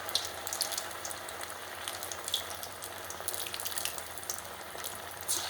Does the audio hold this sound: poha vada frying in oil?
yes